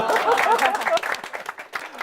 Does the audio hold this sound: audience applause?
yes